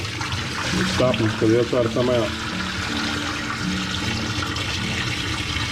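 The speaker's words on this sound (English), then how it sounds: "So all I'm gonna do is pour this water out." Water is poured out of a container of live crawfish during an indoor Texas crawfish boil, a steady gushing, splashing rush that trails off into trickling while someone talks over it.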